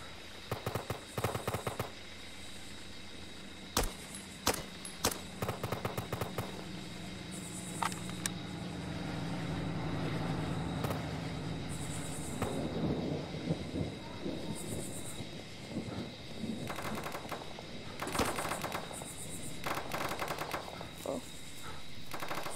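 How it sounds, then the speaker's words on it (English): Bursts of rapid gunfire in the Roblox war game Blackhawk Rescue Mission crackle repeatedly, some in quick automatic strings, others single sharp shots, over a low mechanical rumble. "Oh, gunshots."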